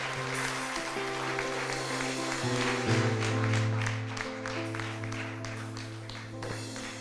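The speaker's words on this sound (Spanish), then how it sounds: "Un aplauso, hermanos. Un aplauso para el Señor." A church retreat congregation claps for the Lord, a steady patter of hands rising over sustained keyboard chords and continuing to the end.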